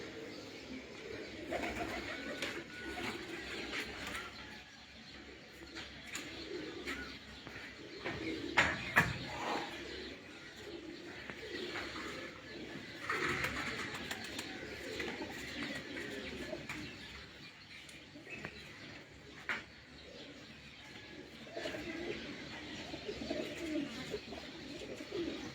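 Pigeons kept on a rooftop in Gujranwala coo softly and repeatedly, with occasional chirps and a few brief louder sounds over quiet outdoor ambience, faint and spread across the whole span.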